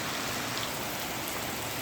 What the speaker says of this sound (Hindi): बालकनी में खड़े हो तो बारिश का पानी छिटक कर शरीर पर गिरता है।